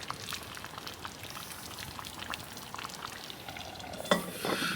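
A pot of cassoulet simmers inside a tarp hot tent on a rainy night, giving faint, irregular bubbling pops and soft ticks, with a brief louder clatter near the end.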